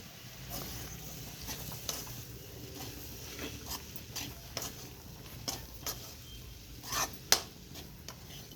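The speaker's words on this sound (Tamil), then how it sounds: "இப்போ கொத்தமல்லி தழை தூவி இதை நம்ம மிக்ஸ் பண்ணிக்கலாம்." Carrot poriyal is stirred in a pan with coriander leaves, giving soft repeated scrapes and light taps of a spoon against the pan, fairly quiet and irregular.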